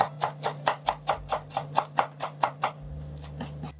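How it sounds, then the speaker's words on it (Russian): Knife strikes a cutting board in a steady run of about fourteen crisp chops while a small bunch of parsley leaves is cut up, close and clear with a faint low hum underneath. "И сразу рядышком порежу небольшой пучок петрушки."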